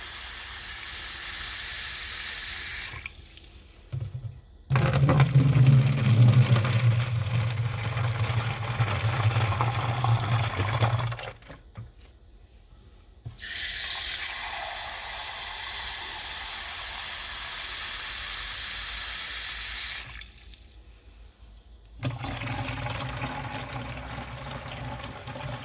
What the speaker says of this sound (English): start with 4 cups of fairly warm to hot water